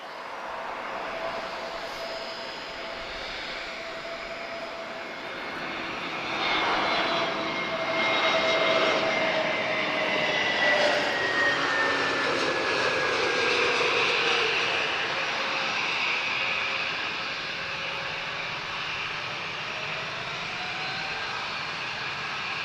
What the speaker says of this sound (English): let's watch TAP's Retrojet